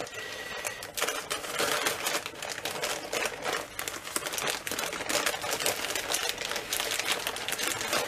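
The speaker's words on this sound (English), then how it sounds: "So let me cut this open." A plastic packet holding hats is cut open up close, giving continuous crisp crinkling and rapid snipping rustles throughout, with no voices.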